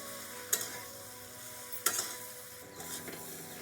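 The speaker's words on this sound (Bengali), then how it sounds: "দিয়ে দেবো সমস্ত সয়াবিন, দিয়ে ভালো করে কষিয়ে নিচ্ছি।" Soya chunks and potatoes stir-fried in a pan for a spicy Bengali soya curry, with soft scraping and stirring under a low sizzle and two sharp clinks of a utensil against the pan.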